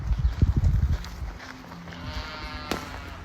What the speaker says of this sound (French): Et là, Asia, on te présente le cheval à Jaili.